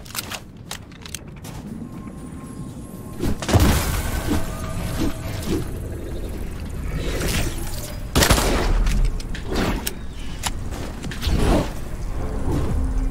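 Shotgun fire in the Fortnite arena mode, loud blasts bursting out near 3.5 and 8 seconds over a continuous dense bed of game noise, gunfire and effects.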